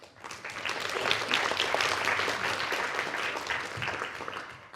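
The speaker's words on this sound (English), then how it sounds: "A big round of applause for Dr." Sustained audience applause at a panel event on AI diversity bias in the labour market, dense steady clapping from a sizable crowd that swells quickly and holds fairly loud throughout without voices.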